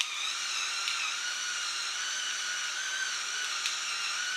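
An electric pepper grinder set to its finest grind runs with a steady, high-pitched motorized whir that stays close and even throughout, with no talking.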